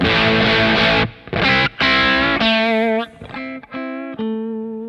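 Electric guitar through a Kemper Profiler set to an edge-of-breakup tone, warm yet bright: loud strummed chords and ringing single notes with light grit, pauses between phrases, and sustained notes fading out.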